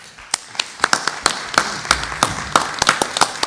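Scattered, sparse hand claps from a small group at a school board meeting, fairly close and irregular, with no steady applause swell.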